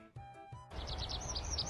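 Wild bird chirping outdoors with a slingshot being used nearby: a run of high, bright chirps and tweets repeating over a steady background, preceded by a couple of short sharp sounds.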